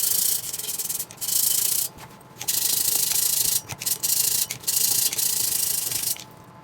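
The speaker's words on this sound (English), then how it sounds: "you sand it until all of this black here looks like this" Folded sandpaper rubbed hard against a Stanley tumbler in loud, close bursts of harsh scratching, broken by short pauses between strokes, with no voices.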